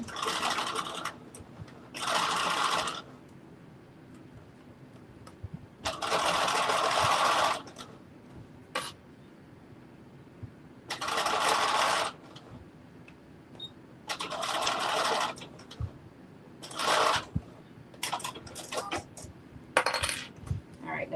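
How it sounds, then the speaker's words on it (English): A sewing machine back-and-forth stitches a bucket hat seam in repeated short bursts, each run whirring for a second or two with quiet pauses and small clicks between, close and without talk. "Just back and forth stitch this piece right here, so when I'm turning this, it does not rip"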